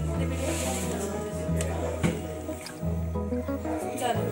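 Cake batter is stirred in a bowl with soft, wet squishing strokes, heard over a steady low background hum with occasional light knocks.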